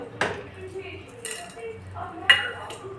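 A spoon stirs a besan barfi mixture of gram flour, milk and released ghee with nutmeg powder in a pan, giving a few sharp metallic clinks and scrapes against a quiet background, close and fairly soft.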